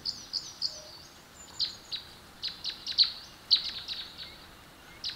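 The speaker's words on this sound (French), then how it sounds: "Maintenant qu'on ne fait plus de bruit, on peut entendre les oiseaux." Small birds chirp outdoors in a quiet setting, with a run of short high tweets repeating irregularly, fairly soft and slightly distant, with no talking.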